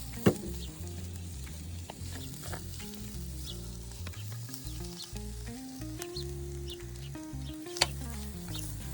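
Cumin powder and garam masala sautéing in a pan for an outdoor shakshuka egg roast, a steady sizzle with occasional stirring clicks under continuous background music.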